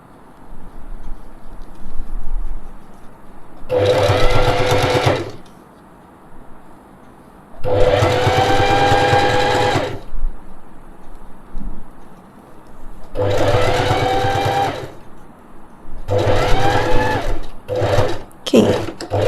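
A sewing machine stitches a fabric face mask in four loud, close bursts of steady whirring, separated by short pauses, with a few quick stop-start runs near the end and no speech.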